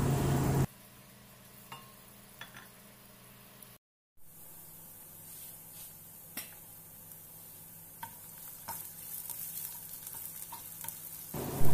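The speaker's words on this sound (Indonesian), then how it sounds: "Lalu saya masukkan bawang bombay 1 siung yang udah dipotong kecil-kecil. Ini ditumis sampai layu dan harum." Chopped onion sautéing in hot cooking oil, a steady close sizzle with occasional stirring clicks, briefly cut out partway through before the frying resumes.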